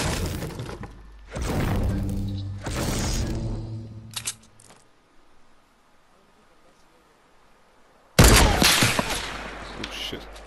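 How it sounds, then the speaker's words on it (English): Gunfire and shattering impacts in a Fortnite match: bursts of loud shooting with breaking sounds, then a quiet gap before another sharp volley, with players talking over it. "Where are you being shot from?"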